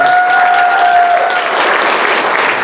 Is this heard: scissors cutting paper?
no